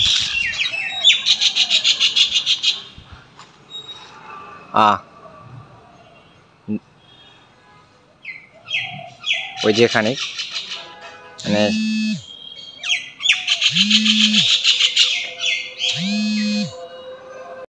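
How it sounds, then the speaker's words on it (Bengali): Several common mynas give harsh chattering and squawking calls close by, in repeated bursts, with someone talking briefly between them. "দেখেন শালিক পাখি এখানে আছে, আমাকে দেখে নড়ছেও না। খুবই ভালো লাগছে যে পাখিগুলান ডাক খুবই সুন্দর লাগছে।"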